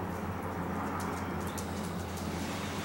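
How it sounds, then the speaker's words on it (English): Steady low rumble of road traffic nearby, a continuous drone with faint high chirps of insects or birds above it. "I hear the cars on the road."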